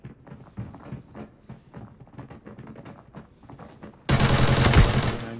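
Rapid Glock pistol gunfire in the shooter game Lockdown, a quick string of sharp shots followed by a loud, dense burst of firing at the end.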